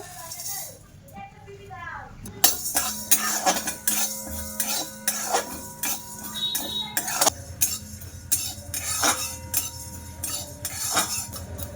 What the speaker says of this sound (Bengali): এবার আমি এই মশলাগুলো সব ভাজা করে নেব